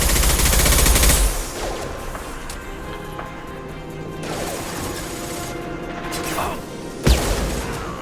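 A high-impact shot in the Mass Effect 2 video game, a sharp loud blast up front followed by a ringing tail and rumble, with a second crack near the end amid game noise.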